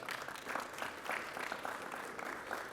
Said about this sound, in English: A round of applause for Aunties